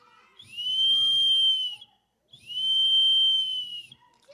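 A bird whistle imitates an eagle calling far overhead. It sounds two long, clear, high-pitched whistled screeches of more than a second each, separated by a short pause, over faint breathy noise.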